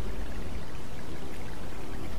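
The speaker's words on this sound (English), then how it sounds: "Unfortunately, it began to rain in about 50 minutes." Heavy rain pours steadily during a road trip around Thanlyin, a dense, continuous broadband wash with no voices.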